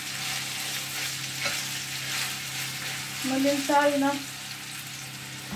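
Pieces of pork belly searing in a hot pan, a steady broad sizzle throughout with a short spoken word partway through.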